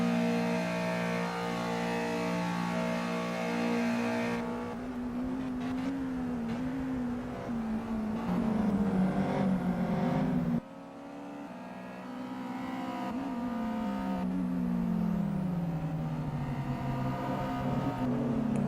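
Race car engines in the Simraceway racing game, sustained high revving that climbs and drops through gear changes, several cars heard close together with engine tones sweeping as they pass.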